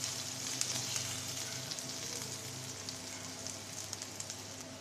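Chopped onion and garlic, with dried chilies, fry in oil in a pan, giving a soft, continuous sizzle with faint crackles and pops; quiet and close, with nobody speaking.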